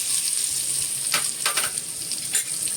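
Curry leaves, a large bowlful, dropped into half a spoon of heated oil crackle with a steady high hiss, broken by a few sharper spits and pops.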